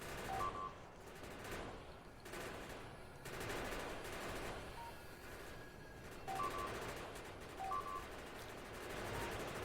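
Defensive gun turrets in the Factorio video game firing armor-piercing bullets, heard as rapid, sustained automatic gunfire in repeated bursts with small electronic blips over the top, fairly quiet and steady throughout.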